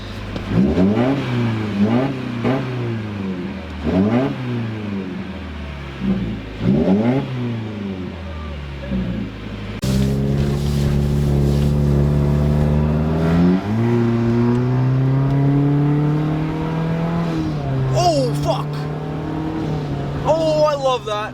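A 2018 Subaru WRX fitted with an AEM cold air intake revs repeatedly in close, rhythmic bursts, then holds a longer sustained rev with pitch climbing and falling, while people talk nearby.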